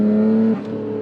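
A Nissan Skyline engine revs under light throttle, a smooth steady hum that drops in pitch halfway through the brief, loud burst.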